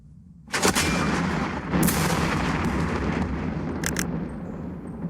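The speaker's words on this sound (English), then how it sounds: "Struggle fire HE into the building" High-explosive shells fired into a building in the Second Front war game, heavy booming gunfire with a sharp onset and a long rumbling tail, a second blast and a few cracking reports following.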